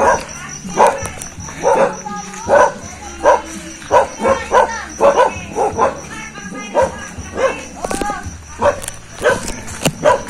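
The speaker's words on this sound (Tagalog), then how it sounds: "Dito na naman ang sandamakmak na aso." Several dogs bark repeatedly in quick, uneven bursts, close and loud, with insects buzzing steadily in the background, in farmland in Alaminos, Pangasinan.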